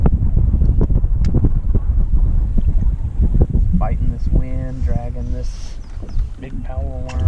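Wind gusting across a lake during summer bass fishing from a boat, a steady broadband rush blowing over the microphone throughout, with someone speaking over it.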